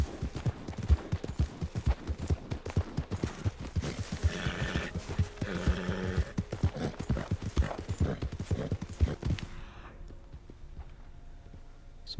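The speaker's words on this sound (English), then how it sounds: "We've also got a lovely little Dalmatian horse called Renaissance" Horse hooves clip-clop in a quick, steady rhythm in Red Dead Redemption 2, with a brief neigh in the middle, before the hoofbeats stop and the scene falls quiet.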